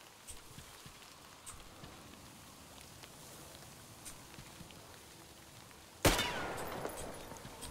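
A single loud gunshot in Metro: Exodus on hardcore, fired at a ghoul, bursts out sharply near the end after a long stretch of quiet rain-like ambience, with a short noisy tail following it.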